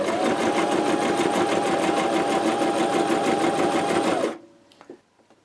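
A domestic sewing machine runs steadily and loudly on a small zigzag stitch for about four seconds, then stops abruptly, leaving a few faint clicks.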